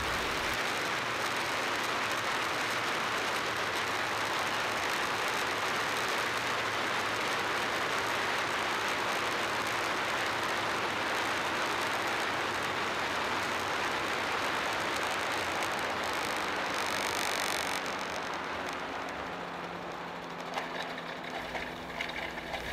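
Beaver RX 550 ultralight aircraft landing on a short grass strip: a steady loud broadband roar of engine and wind that holds for most of the time, then eases off near the end as it slows.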